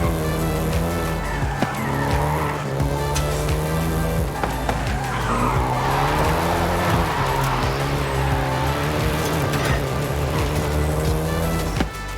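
Volkswagen Golf GTI driven in Forza Horizon 5, its engine droning steadily and loudly throughout with rising and falling revs, repeated tire squeal and skidding as it corners hard.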